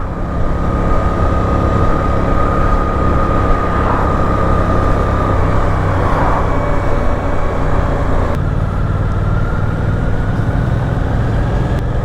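A 2023 Suzuki GSX-8S motorcycle engine runs continuously and loud with a steady droning tone, while wind rush fills the background throughout, with no talking.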